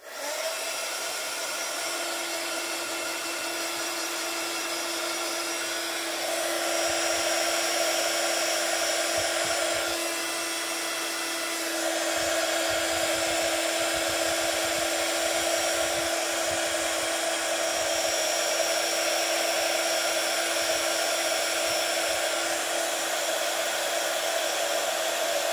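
A heat tool drones steadily as it melts white embossing powder on a coffee-ring design for a gents birthday card, a constant close-up whine-and-rush that swells slightly louder after a few seconds and holds alone to the end.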